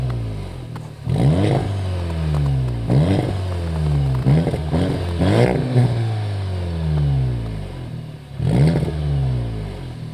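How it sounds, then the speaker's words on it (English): A Volkswagen Golf R 7.5 with a 2-liter TSI turbo petrol engine revs up repeatedly, each rise climbing in pitch then falling back to idle, loud and close in a steady series of blips. "this one here is a 2-liter TSI turbo petrol engine"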